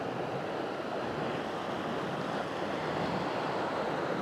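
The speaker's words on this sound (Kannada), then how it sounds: "ಅದು ಓಪನ್ ಇರೋದ್ರಿಂದ ಫುಲ್ಲು ಗಾಳಿ ಮೇಲೆ ಬರುತ್ತೆ" Strong wind gusts steadily up over an open, fog-covered hilltop viewpoint, a loud continuous broadband rush with no break, close to the microphone and with no voices.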